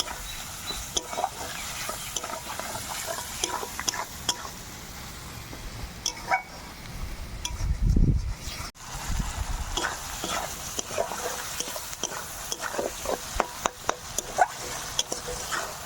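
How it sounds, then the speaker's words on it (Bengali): Fish oil fries with onion, turmeric and salt in a pan, a soft sizzle under repeated close scraping strokes of a stirring spoon, with one louder burst midway. "এবার এর মধ্যে মাছের তেলটা দিয়ে দেবো।"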